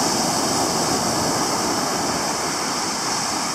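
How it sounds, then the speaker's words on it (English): Ocean waves crash steadily onto the black-and-brown sand of Playa de los Bohíos, a loud, continuous roar of surf with no one talking. "The waves are crashing, so no swimming here."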